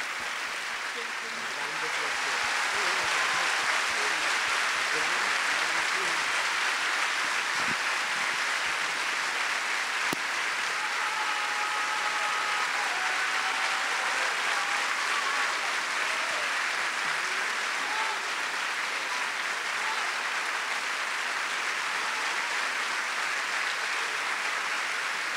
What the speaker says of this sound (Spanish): El aplauso y las felicitaciones para los condecorados